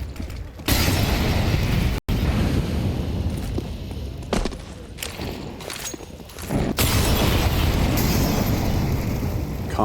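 An incendiary grenade bursts into flame during a Counter-Strike 2 esports quarterfinal match, a loud roaring rush of fire and crackle with sharp cuts and bangs, sustained across the clip and heavy throughout.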